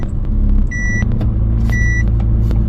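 A campervan juddering while driving, with a loud continuous low rumble of road and engine noise; a repeating electronic beep from a pedestrian walk signal sounds twice in the background.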